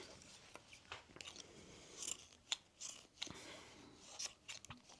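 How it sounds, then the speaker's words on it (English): Paper scissors snip through fabric scraps in a run of irregular, close, crisp cuts and crunchy clicks, fairly quiet, with no voices. "these scissors, I've been cutting paper with it"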